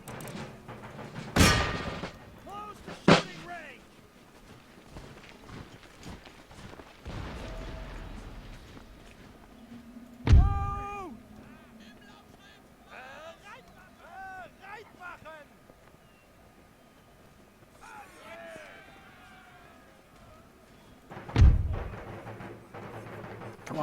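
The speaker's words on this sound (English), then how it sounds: "Do as much damage as we possibly can here." Artillery and musket fire in an Empire Total War battle: a few heavy, isolated booms spaced seconds apart over a low windy battlefield rumble, with voices calling out in between.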